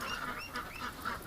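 Muscovy duck at a gate, a close run of rough breathy honking calls repeated several times in quick succession.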